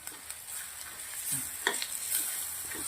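A spoon stirs a palak paneer filling with fresh spinach in a pan over a low, steady sizzle, with a few soft scrapes and taps against the pan, close and quiet, with no voices.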